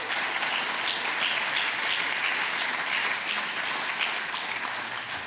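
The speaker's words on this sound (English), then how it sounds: "let's hear another round of applause for Human Rights Foundation" A conference audience at a Bitcoin policy summit breaks into sustained, dense applause, steady and full for the whole stretch with no voices over it.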